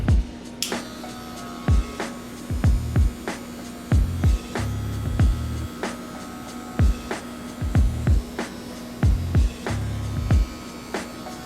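An electric hair clipper with its armature fully open hums steadily while cutting an afro skin taper, with rhythmic low buzzing pulses and clicks as it passes repeatedly through the hair up close.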